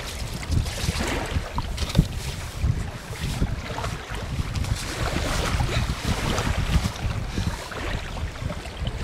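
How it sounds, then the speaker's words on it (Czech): Strong wind gusts rush over open water at a carp-fishing spot on the Tovačov lakes, a loud, ragged roar with buffeting microphone noise throughout. "Trošku se nám rozfoukalo."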